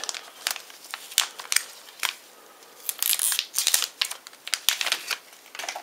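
A card game booster pack wrapper is torn open by hand, giving a close series of sharp, crinkly rips and crackles in uneven bursts over several seconds.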